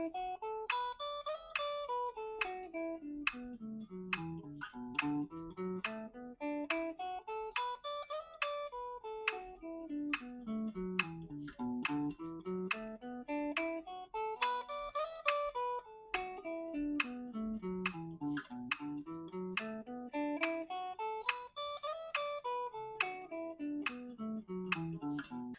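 Steady metronome clicks run throughout, with a melodic instrument playing three even notes to each click in rising and falling scale patterns, sustained and clear with no talk.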